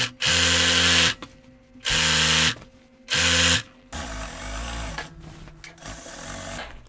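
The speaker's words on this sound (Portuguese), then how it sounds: "Aqui eu tô reforçando a costura na reta, tá? Da lateral da peça." A straight-stitch sewing machine runs in three short, loud bursts while stitching the side seam of a blazer, with brief pauses between them, followed by a quieter mechanical whir and clatter.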